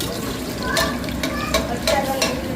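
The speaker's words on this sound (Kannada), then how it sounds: "ಸೂಪರ್ ಚಿಕನ್ ಫ್ರೈ ರೆಡಿ ಆಗ್ತಾಯಿದೆ" Chicken frying in a pan for biryani, with a spatula stirring and scraping through the sizzle in repeated close strokes under a steady frying hiss.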